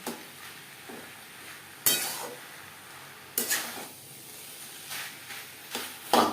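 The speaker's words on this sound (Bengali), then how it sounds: "গ্যাসের ফ্লেমটাকে হাই টু মিডিয়ামে রেখে 2-3 মিনিট নাড়াচাড়া করে নেব।" A spatula scraping and stirring banana stem (thor) as it fries in a pan over a high-to-medium gas flame, with a soft sizzle underneath and sharp metallic scrapes recurring every second or so, close and fairly quiet.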